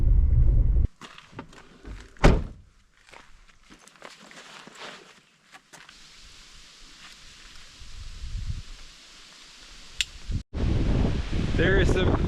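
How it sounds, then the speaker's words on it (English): Fierce wind roars through an ancient canyon, loud gusts buffeting the microphone at the start and end, with a quieter rustling stretch and scattered footsteps and movement in between. "There is some fierce wind coming through here, man."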